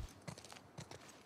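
Horse hooves clip-clopping in the video game The Last of Us Part II, a few soft, quiet irregular hoofbeats close by with no talk over them.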